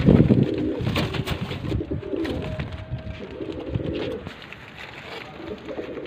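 Pigeons cooing at a Sialkot breeder's loft, steady low murmuring coos under a busy background, with a voice talking faintly throughout.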